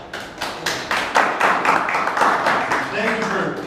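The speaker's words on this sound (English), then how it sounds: "Thank you for clapping along with me." An audience at a front-end developer meetup claps along in uneven bursts that build into rhythmic group clapping, fairly close and loud, with a voice under it.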